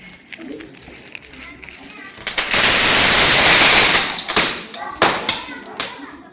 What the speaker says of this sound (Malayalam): ലാസ്റ്റ് നമ്മൾ അവർ കത്തിക്കുന്ന ഒരു പടക്കം കൂടെ കാണിക്കാം